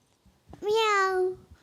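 A voice imitates a cat with one drawn-out, rising-then-falling meow, fairly loud and clear against a quiet background.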